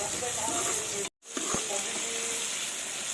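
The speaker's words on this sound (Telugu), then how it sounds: "ఇప్పుడు మనం కోసి పెట్టుకుని టమాటా ముక్కలు కూడా ఇందులో వేసేసుకుందాం" Tomato pieces sizzling in a hot pan while cooking an egg curry, a continuous bright frying hiss broken by a short pause and a clink, with no talking.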